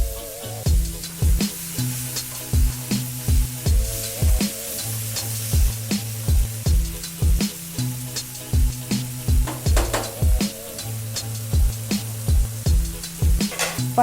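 Mushrooms with a little salt frying over a high flame, a steady sizzle broken by regular rhythmic scraping and stirring strokes of a utensil in the pan, close and loud, with a repeating musical tone running underneath.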